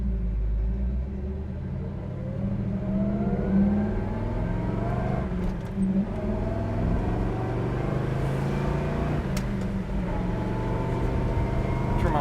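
A 1971 Chevrolet Nova accelerates hard through the gears toward fourth, its engine rumble swelling in rising revving sweeps that continue steadily and close-up for the whole stretch.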